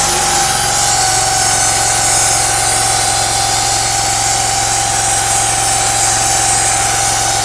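A loud, steady engine drone from a high-pressure steam cleaner with a sustained whine, running continuously at high revs with no pauses.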